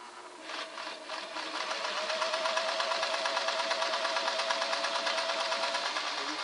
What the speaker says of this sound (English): Let's just try and see if the motor and gearing will run it in there.